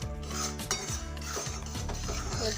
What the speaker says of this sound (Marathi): हा जो रवा आहे तो आपल्याला सतत ढवळत राहायचे